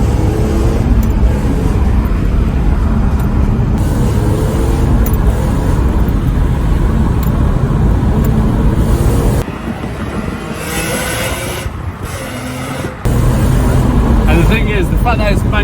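A BMW E46 M3 with a manual gearbox, its engine rasping loudly and steadily while driving through bends, heard from inside the car and briefly quieter near the end.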